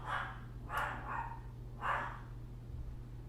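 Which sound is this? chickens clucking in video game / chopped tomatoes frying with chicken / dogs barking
dogs barking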